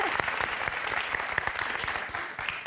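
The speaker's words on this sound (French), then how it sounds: "Depuis quand on applaudit dans un troquet?" Applause in a French bar: dense, continuous clapping from a small crowd, loud and close, running steadily for a few seconds with no talk over it.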